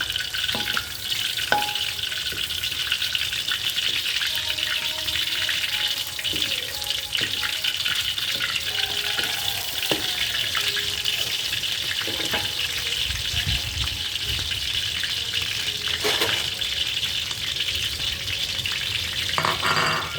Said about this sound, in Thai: เราทอดให้เสร็จก่อน